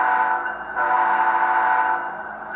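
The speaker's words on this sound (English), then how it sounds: "So now let's listen to the air horn." An air horn from a Tsunami2 TSU-21PNEM8 sound decoder set up for an InterMountain Tier 4 locomotive sounds as a loud, steady chord that holds for about two and a half seconds, with a short dip and swell partway through.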